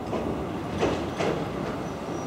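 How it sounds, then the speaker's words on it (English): A train crosses a bridge over a river, heard as a steady distant rumble with faint rhythmic clatter and a couple of soft swells, with no talking. "Train over the water."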